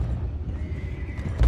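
Horses whinny and neigh in the open-world western video game Red Dead Redemption 2, a sustained nearby neigh with faint hoof clip-clop underneath, ending in a brief thump.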